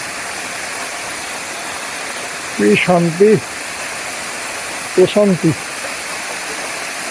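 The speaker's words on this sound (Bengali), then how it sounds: "ঝর্ণার শব্দটা শুনি মনোযোগ দিয়ে।" Resang waterfall in Khagrachari gives a constant, broad rushing hiss that fills the whole stretch, while a person speaks briefly twice over it.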